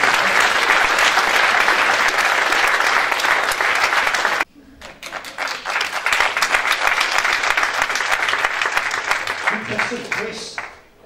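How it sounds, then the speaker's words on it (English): An audience at a general election debate applauds the panelists, a dense burst of clapping that breaks off briefly then resumes and fades out, with some voices mixed in. "I think I would like to give a round of applause to all of the panelists who have given up their time."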